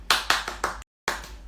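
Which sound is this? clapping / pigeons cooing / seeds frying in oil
clapping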